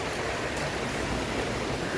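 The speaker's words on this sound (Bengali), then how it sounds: "অনুভব করছি যে অনেক বড় ঘূর্ণিঝড় হচ্ছে টানা বৃষ্টি টানা মানে বাতাস" Heavy, steady rain with wind during Cyclone Remal in Bangladesh, a dense continuous hiss of downpour filling the whole moment at even loudness, close and unbroken, with no voices.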